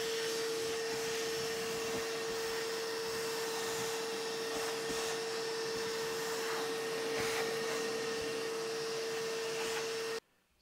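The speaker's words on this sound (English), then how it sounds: "I'm gonna vacuum that up just to prevent scratching the smoother surface" Small vacuum cleaner sucking loose gravel pieces off a model railroad parking lot, a steady whining hum with a constant tone running alone, with faint rattles of debris, cutting off abruptly at the end.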